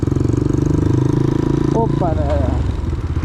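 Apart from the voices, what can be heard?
Enduro 200cc motorcycle riding over a rough road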